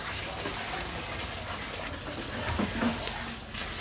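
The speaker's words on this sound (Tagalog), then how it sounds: "And the dog take a shower." Shower water runs steadily while a dog is bathed, a soft continuous hiss and splash at low level with a few slightly louder spatters near the end.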